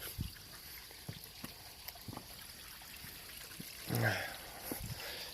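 Water trickles and splashes steadily over a small waterfall at a dam, with scattered knocks and a brief louder surge of flow partway through.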